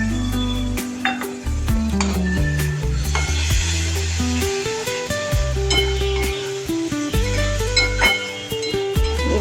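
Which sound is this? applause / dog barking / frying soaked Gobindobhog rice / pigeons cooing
frying soaked Gobindobhog rice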